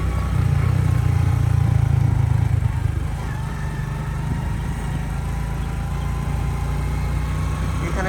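A motorbike rolls slowly through a village near Peshawar, its engine a steady, close mid-pitched drone that runs throughout, slightly louder at the start.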